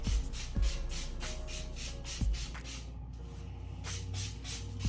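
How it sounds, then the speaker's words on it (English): Leave-in conditioner sprayed from a pump bottle onto natural hair in a twist-out, a few short hissing bursts close by against a steady low background hum. "So I'm going to spray the leave-in conditioner."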